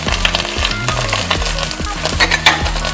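Tomatoes, onion, green chili and mixed vegetables stir-fried for a South Indian sambar dal, a steady close sizzle with spoon scrapes and clinks against the pot throughout, under a faint musical hum.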